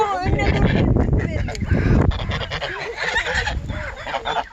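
Geese honk and squawk close by in a muddy village yard while people talk and laugh among the flock, the birds' harsh calls overlapping with the voices throughout.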